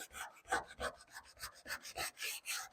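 A hand sanding block is rubbed over the quarter panel of a 1970 Dodge Challenger during bodywork prep for paint, working down toward bare metal. About a dozen quick, close, rasping back-and-forth strokes follow one another in a steady rhythm.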